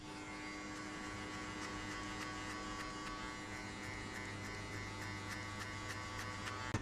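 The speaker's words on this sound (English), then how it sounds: "try to flick the clipper out" An electric hair clipper buzzes steadily at close range during a high skin fade haircut, a constant even drone with faint clicks and no talk.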